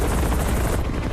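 A real helicopter flies over a city rooftop at night, a loud, dense, continuous rotor and engine roar filling the whole stretch.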